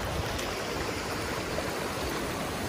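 Grout Creek tributary near Big Bear Lake rushes fast and full, a dense, steady roar of flowing water heard close up without pause.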